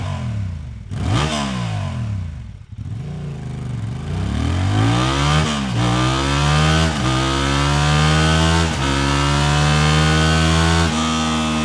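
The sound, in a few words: stock motorcycle exhaust revving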